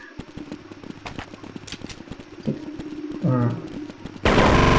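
Gunfire crackles in Counter-Strike 1.6, played in a web browser: rapid close shots and bursts, ending in a loud sustained volley.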